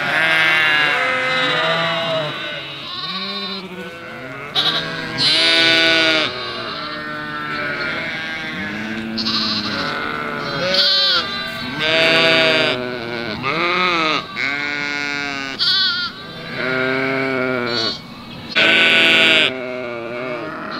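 A large flock of sheep bleats almost continuously during a seasonal transhumance drive in Oltenia, many overlapping voices close and loud with no talk, calls rising and falling in dense waves.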